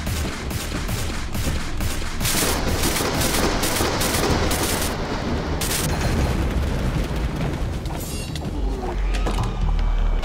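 Rapid bursts of gunfire from a gun in Minecraft crackle loudly and continuously, with sharp repeated shots and clanking mechanical noises layered over dense game sound.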